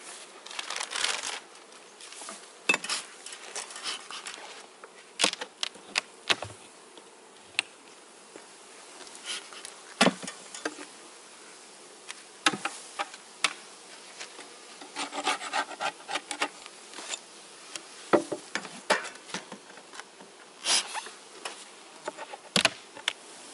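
Honeybees buzz around an open beehive during a formic acid treatment. A continuous insect hum runs throughout, broken by frequent sharp scraping and rasping knocks from handling the hive. No one speaks.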